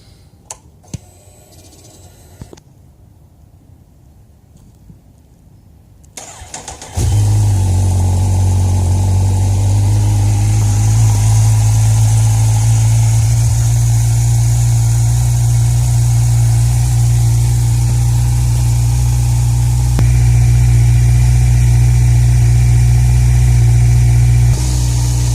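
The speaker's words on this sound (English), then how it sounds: "It's a cold start." A Kawasaki Z1000 motorcycle fitted with aftermarket headers cold-starts after a few seconds of quiet clicks, then settles into a loud, steady, close idle that continues to the end.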